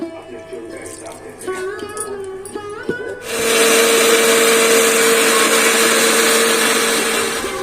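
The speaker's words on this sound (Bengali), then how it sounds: "মিক্সির বাটিতে দিয়ে দিব অল্প সঙ্গে জলও দিয়ে দিচ্ছি কেননা এটা আমি গুঁড়ো করব না পেস্ট করে নিব" A mixer grinder grinds soaked rice with a little water into paste for white pitha, starting abruptly as a loud, steady whirring hum and continuing without a break after a few seconds of quieter kitchen sounds.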